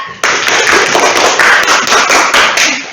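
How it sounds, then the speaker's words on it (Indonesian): A classroom of students claps for a class group, loud, dense and close applause starting abruptly and continuing with slight swells. "Tepuk tangan buat kelompok 3"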